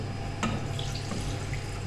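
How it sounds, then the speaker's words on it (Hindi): Milk poured from a cup into a pan of jaggery for sweet jaggery rice: a steady, close liquid pour and trickle with a brief splash near the start, heard alone without talk. "1 कप दूध गुड़ में।"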